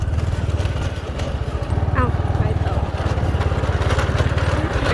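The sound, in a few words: motorcycle-type walking tractor engine running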